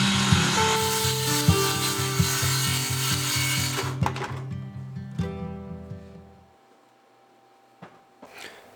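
A saw cuts through a piece of 1/4 inch plywood for a 4Runner camper sleeping platform, with a loud, rhythmic rasping of strokes for several seconds, then a few scrapes and clunks before quiet.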